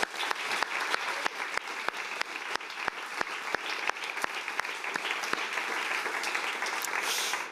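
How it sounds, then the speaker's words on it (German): Audience applause at an award ceremony for German climate journalism, a steady dense patter of many hands clapping close by, continuing without pause and with no one speaking. "Ihr seid super engagiert mit Klatschen."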